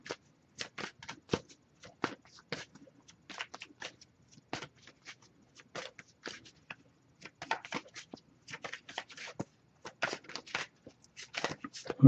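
Cards are shuffled by hand in quick irregular bursts of crisp riffling and slapping, close up, with short pauses between rounds.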